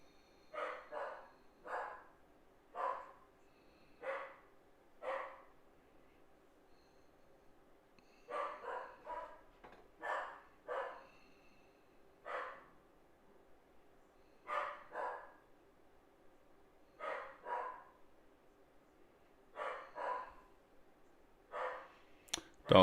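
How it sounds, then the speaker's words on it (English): A dog barks repeatedly in pairs and short volleys, distant and faint, in a quiet room at night with a steady low background hum. "Dog's barking."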